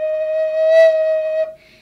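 A native flute note blown with unsteady air, a short tone that swells and wavers in loudness with breathy pushes before dropping off after about a second and a half.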